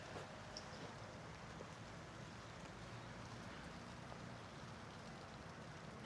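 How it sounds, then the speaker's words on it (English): Rain falls steadily outdoors in a continuous, even hiss that holds at a moderate level throughout, with no voices. "the rain is starting to come down a lot right now."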